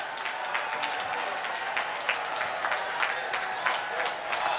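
Crowd at a Prime Minister Narendra Modi rally in Fatehpur, Uttar Pradesh claps in a welcome: dense, steady, loud applause with no break.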